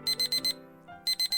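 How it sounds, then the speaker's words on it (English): A 6:45 morning alarm clock rings in two bursts of rapid, evenly spaced electronic beeps, four then three, with a short gap between them, fairly close and clear with no voices. "And the 6:45 alarm"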